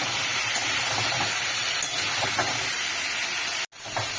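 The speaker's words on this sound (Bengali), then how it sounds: "আলু আর কুমড়ো হালকা ভেজে নিয়েছি।" Potatoes and pumpkin frying in a pan with nigella seeds, salt and turmeric give a steady, loud broadband sizzle and hiss that carries on throughout, with a few faint clicks and a brief dropout near the end.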